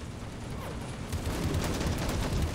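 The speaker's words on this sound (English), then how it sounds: "I love the sound of 50 cals on that striker though." Heavy .50 caliber machine guns firing from a Stryker in a war video game: a dense, rapid rumble of gunfire that grows louder partway through, with no talking.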